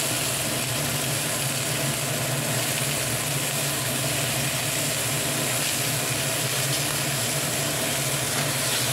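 Dense, steady sizzling fills the pan as potatoes go in with pointed gourd (potol) already frying in oil, a loud continuous hiss with no breaks throughout.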